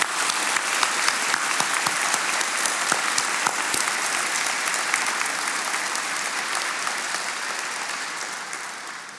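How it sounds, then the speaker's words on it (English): A large graduation ceremony audience applauds steadily for about nine seconds, a dense wash of many hands clapping at once that swells and then tapers slightly toward the end. "let's take a moment to just give a round of applause to the families here."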